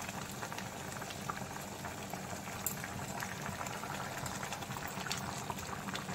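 Yogurt chicken curry gravy simmers and reduces in a pot, making a soft, continuous bubbling and popping at low volume with no one speaking.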